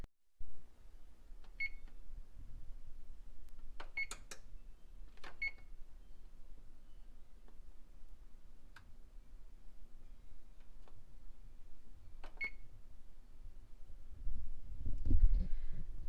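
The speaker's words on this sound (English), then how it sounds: "So they're going in the oven, and I'm gonna set the timer for 15 minutes," An oven timer is being set in a home kitchen while horse treats bake, giving a few faint, scattered electronic beeps spread over a quiet, hissy background.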